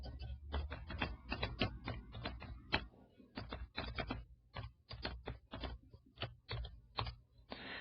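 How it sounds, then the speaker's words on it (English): Rapid bursts of keystrokes on a computer keyboard, close and fairly loud, clattering in uneven runs with short pauses, alone without voices. "I'm going to type the same declaration"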